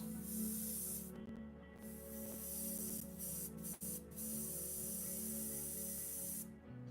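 Airbrush spraying a cleaning rinse through its freshly cleaned paint cup, a steady close hiss running continuously with brief pauses and trigger breaks, no voices.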